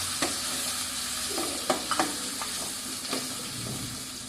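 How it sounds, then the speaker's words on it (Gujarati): Onions sauté in hot oil with asafoetida, giving a continuous close sizzle. A spoon scrapes and stirs the pan several times in quick strokes. "કાંદાને તેલમાં સારી રીતે આ રીતે આપણે સાંતળીશું"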